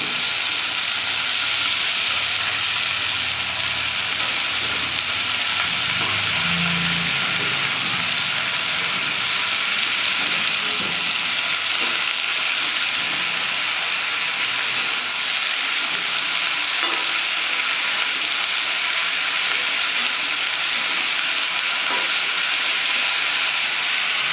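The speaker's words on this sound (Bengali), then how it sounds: "আমি ঢাকাটা খুলে একটু নাড়িয়ে চালিয়ে দেবো" Malabar spinach and fish head curry sizzles steadily in a pan while being stirred, with a continuous loud frying hiss and soft scraping throughout.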